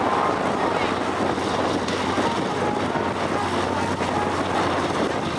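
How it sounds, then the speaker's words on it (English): An Oreck Cyclone propeller airplane flies at minimum altitude during an airshow, its engine a steady droning roar mixed with wind rush, holding at a constant level throughout. "Still flying that Oreck Cyclone at minimum altitude."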